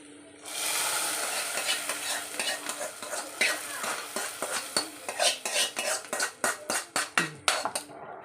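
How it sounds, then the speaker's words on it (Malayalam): Fried cashews and raisins are stirred into a pot of rice and green gram dal payasam: a spoon scrapes and clinks against the vessel, with soft sizzling at first, then a run of sharp, rhythmic metallic taps close by. "ഈ വറുത്ത അണ്ടിപ്പരിപ്പ് മുന്തിരിങ്ങ എല്ലാം കൂടെ കൂട്ടി നമുക്ക് ഇതിനകത്തേക്ക് ഇടാവേ"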